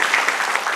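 Brief burst of congregation applause at a Nepali Christian conference gathering, a dense even wash of many hands clapping together, fairly loud and uninterrupted.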